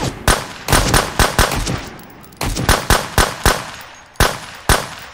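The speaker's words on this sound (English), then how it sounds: "Where are those bullets coming from?" Gunfire in the survival shooter Road to Vostok: close, loud bursts of rapid automatic shots in several clusters separated by brief pauses, each crack sharp and ringing, with no talking over it.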